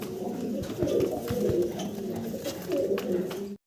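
A large pair of high-flyer pigeons coo nearby in steady overlapping rumbles, with faint background noise, ending abruptly.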